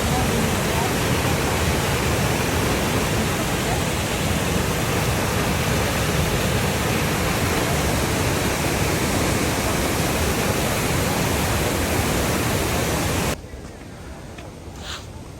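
Davis Falls waterfall in Pokhara, Nepal roars as a loud, steady broadband rush of falling water, continuous and close, dropping suddenly to a quieter background near the end.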